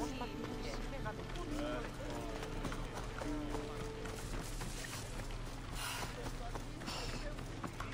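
Horse galloping in Assassin's Creed Odyssey, a steady rapid hoofbeat rhythm running throughout, fairly close and blended with a dense layer of other game ambience.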